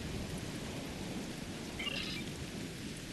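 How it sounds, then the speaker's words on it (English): Steady heavy rain with a constant thunderstorm rumble in the Star Trek Online video game on the planet Ryza, an unbroken wash of rainfall at moderate level with no speech. "Wow, rain on Ryza."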